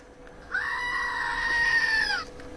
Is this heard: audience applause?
no